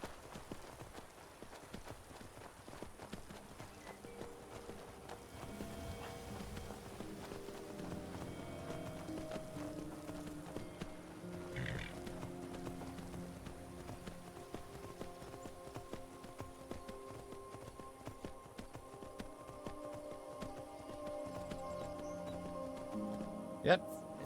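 Hooves of Shadowmere, a horse in the video game Skyrim, clip-clop steadily at a moderate pace throughout, with in-game music and ambience underneath.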